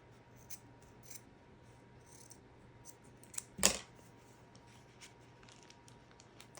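Scissors trimming fabric while making a collaged envelope, a single quiet crisp snip standing out against faint background ticks and rustle.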